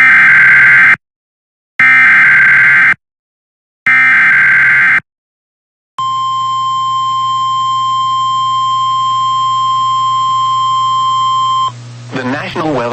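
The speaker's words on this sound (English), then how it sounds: "This has been a test of the NOAA Weather Radio Warning Alarm Device" A NOAA Weather Radio warning alarm tone: three loud, identical bursts of electronic tone separated by silence, then a long, steady, piercing sustained tone that cuts off into a voice.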